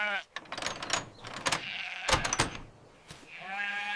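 Sheep in a farm enclosure bleating several times in short, wavering calls, close and fairly soft, with brief knocks and rustles between them.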